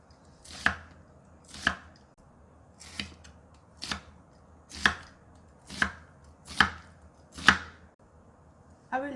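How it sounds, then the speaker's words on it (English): A knife cuts an onion into strips on a board for a baby squid stir fry, with eight crisp, evenly spaced chops close by, about one each second, and quiet pauses between them. "1 onion, cut into strips."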